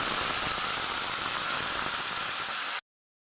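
Tomato, ginger and green chili paste hitting hot oil in a pan, a loud steady sizzling hiss that cuts off abruptly.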